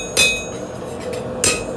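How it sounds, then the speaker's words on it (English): Hammer blows on stainless steel while shaping knife bevels, glancing strikes across the edge of a faceplate: two sharp, ringing metallic hits about a second apart, close and loud, with a faint clinking hum between. "you can kind of just place your hammer strikes"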